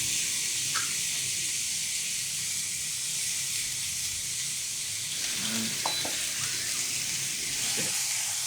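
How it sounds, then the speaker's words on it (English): Steak sizzles steadily on a hot grill, a loud, constant frying hiss close up, with a few faint scrapes and taps over it and no talk. "Now finally, I'm ready to cook my steak."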